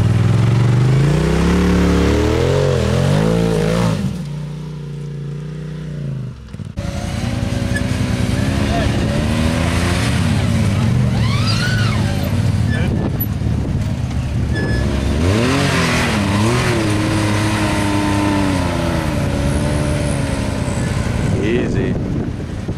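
A Can-Am X3 and Turbo RZR side-by-side climb a slickrock trail on Fins and Things in Moab, engines droning and revving loudly and steadily throughout, with a brief dip partway through and people talking over the noise.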